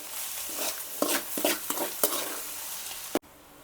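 Food being stirred and mixed in a sizzling frying pan, with repeated scraping strokes of a spoon against the pan over a steady frying hiss, ending in a sharp knock.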